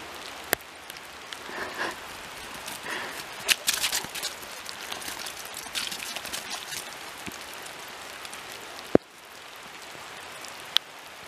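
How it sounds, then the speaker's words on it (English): Rain falls steadily during a November hike, pattering on nearby surfaces with scattered louder drips and taps, soft and even throughout. "I'm getting sick and tired of standing in the rain."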